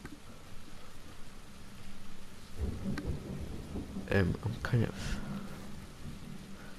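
Rain patters steadily in the PUBG video game while thunder rumbles and cracks in a few rolling bursts midway, with someone talking quietly over the storm.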